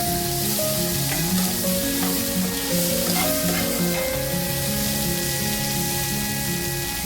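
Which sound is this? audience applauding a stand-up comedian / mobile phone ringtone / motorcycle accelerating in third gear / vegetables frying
vegetables frying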